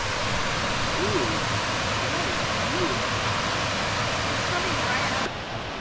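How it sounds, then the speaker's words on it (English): A waterfall pours straight out of a cliff beside old mill remains on a Shaker Village trail, making a steady, loud, full rushing roar that continues unbroken and drops slightly near the end. "This waterfall is really cool."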